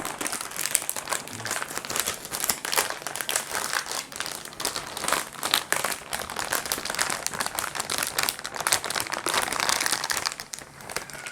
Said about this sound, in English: Let's get that tape off.